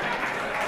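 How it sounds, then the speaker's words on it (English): Studio audience applause for the winning pair on a comedy quiz game show, a steady, dense wash of clapping that runs evenly through the brief moment without a break. "Give a big round of applause to today's champions of Goitless, Helen and Amy"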